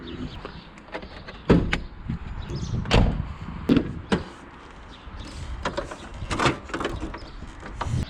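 A Ford Escort Express van's bonnet being opened, a series of sharp metallic clunks, creaks and latch clicks at irregular intervals, close and fairly loud.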